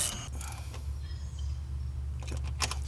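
An 11 mm metric wrench tightens a bolt on the intake of a 6.7L Dodge truck, giving a few close mechanical creaks and ratcheting clicks over a low steady engine-bay hum.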